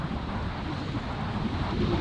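Steady gusting wind on an open golf course buffets the microphone, a continuous low rumbling roar with no talking heard.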